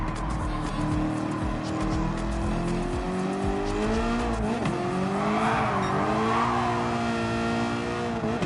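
A car engine in Gran Turismo 7 revs hard with sustained high-pitched tones, rising and falling, and tires squealing on track, loud and continuous without talk.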